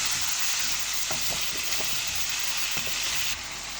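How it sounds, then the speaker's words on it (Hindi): Chicken pieces and onions frying in a hot pan, a steady close sizzle running throughout with faint stirring knocks scattered across it, no voices. "मैं चिकन को प्याज के साथ 5 से 7 मिनट तक फ्राई करूँगी।"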